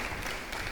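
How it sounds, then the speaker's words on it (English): Audience applause at the end of a talk at a robotics conference, a brief burst of steady, moderately loud clapping from a crowd. "Big round of applause."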